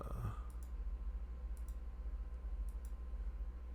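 A computer mouse clicks in a few faint, quick double-clicks spaced about a second apart over a steady low hum.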